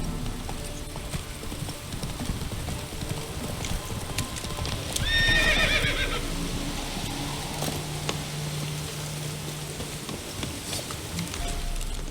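A horse in the video game The Witcher 3 gallops with a steady, fairly quiet clip-clop of hooves and gives a short whinny partway through, over a soft rain-like ambient wash, with no talking.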